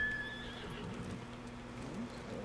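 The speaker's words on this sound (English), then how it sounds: "let's call my horse" A horse in the Ghost of Tsushima video game whinnies and snorts as its hooves clip-clop steadily on the ground, fairly close, with a low ambient game hum underneath.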